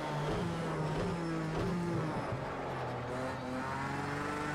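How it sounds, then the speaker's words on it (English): V6 engine of a Ford GT in a racing video game, revving and pulling through gears with rising, falling pitch sweeps, sustained and loud throughout. "Again, V6, it sounds pretty good."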